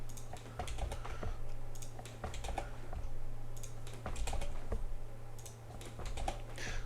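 Steady, fairly fast typing of Java code on a computer keyboard, with soft close key clicks in irregular bursts over a low background hum, and no talk.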